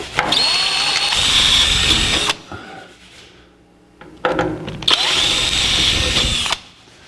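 A power drill bores into steel, enlarging mounting holes for a brake booster on a 1964 C10 pickup, in two loud sustained bursts separated by a quieter pause of handling noise.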